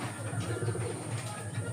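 Pigeons coo softly in a loft, a continuous low murmuring of many birds close by with a steady background hum.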